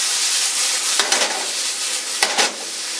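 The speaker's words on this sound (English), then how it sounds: "the chicken is cooking" Chicken pieces fry in a pan with a steady broadband sizzle throughout, and two brief louder bursts of stirring or turning flare up partway through and near the end.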